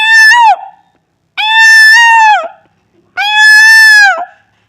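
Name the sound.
man imitating a peacock call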